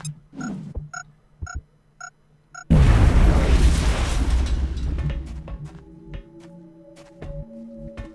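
A frag grenade goes off in the video game XCOM: Enemy Unknown. A few short interface beeps come first, then one sudden loud blast with a rumbling tail that fades over several seconds under faint game tones.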